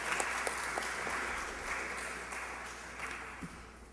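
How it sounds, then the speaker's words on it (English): Audience at a youth productivity forum applauds the schools after their opening statements, a steady, fairly distant wash of clapping that slowly tapers across the few seconds. "can we give all the schools a round of applause for their initial opening statements?"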